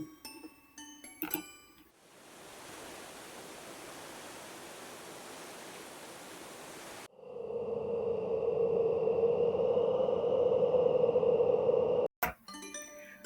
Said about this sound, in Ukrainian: Послухайте, будь ласка, звук річки та вітру.